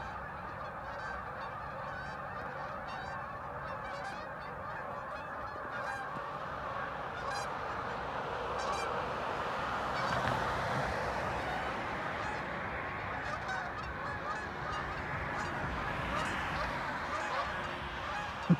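A huge flock of about a thousand geese honking together over a field, making a dense, continuous wash of overlapping calls that swells in the middle. It is heard from a short distance with no talking.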